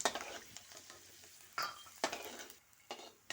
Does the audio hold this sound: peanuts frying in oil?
yes